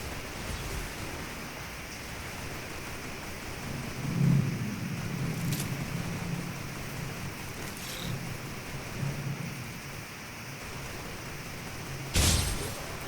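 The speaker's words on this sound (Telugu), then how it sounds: "ఫుల్ ఉరుములు మెరుపులు గట్టిగా ఉన్నాయి" Steady rain with deep rolls of thunder rumbling in the distance, punctuated by a few sharp cracks, one loud crack near the end.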